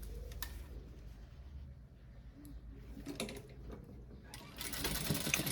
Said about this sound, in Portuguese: Já passa a segunda costura.